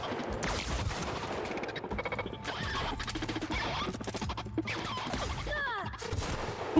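A shock-enhanced weapon fires repeatedly during a firefight in The Outer Worlds, rapid cracking bursts and impacts layered with zapping electrical effects and ambient game noise.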